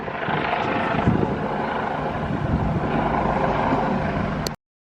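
A helicopter flies overhead a street: a steady, broad mechanical roar with a low throbbing rotor texture, loud and continuous for several seconds before cutting off abruptly.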